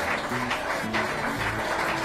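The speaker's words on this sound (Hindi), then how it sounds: "ये देखकर वहाँ खड़े लोगों ने ताली बजाई।" Bystanders at a barber shop clap together in a dense, even patter that fills the whole moment, with music running beneath.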